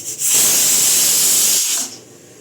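A pressure cooker cooking masoor lentil dal releases a loud, close burst of hissing steam lasting about one and a half seconds before cutting off.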